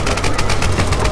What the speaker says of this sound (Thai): โอ้โหเสียงปืนเสียงปืน